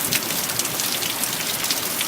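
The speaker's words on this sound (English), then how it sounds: "Still raining." Steady rain pours down outdoors, a dense, continuous hiss of drops hitting surfaces, loud and even with no voices.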